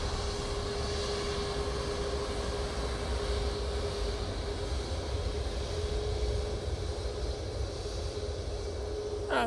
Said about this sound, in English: TUI 737 MAX 8 now coming on via Victor Alpha.